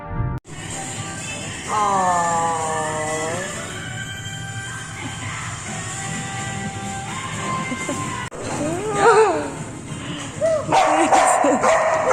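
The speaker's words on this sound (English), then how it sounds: "We also visited our first animal cafe in Seoul, which was a dog cafe" Dogs at an indoor dog cafe in Seoul bark, yip and whimper in scattered bursts, close by and fairly loud over a busy room hum, with some voices mixed in.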